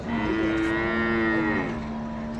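A buffalo gives one long, deep, close moo at a livestock market, with no voices over it.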